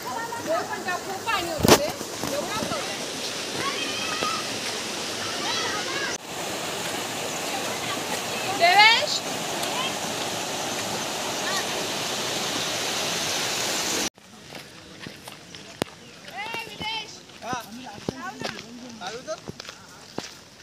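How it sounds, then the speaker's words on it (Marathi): Mandle waterfall in the hills near Mahad pours with a continuous broad rushing roar of flowing water, with voices talking over it throughout. "आणि वॉटरफॉल आहे पुढे त्या डोंगरामध्ये."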